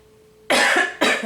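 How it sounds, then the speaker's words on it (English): Two sharp, close coughs in quick succession, the first longer than the second. "I even started coughing on that part."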